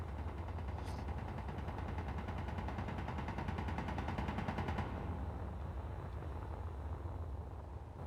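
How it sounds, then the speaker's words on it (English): Interior turrets in Space Engineers fire rapid automatic bursts, a dense rattling stream over a low rumble that stops abruptly and leaves a fading drone. "Incoming badness from interior turrets"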